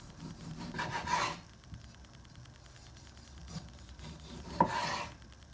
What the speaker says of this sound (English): So then I have a nice tomato and slice it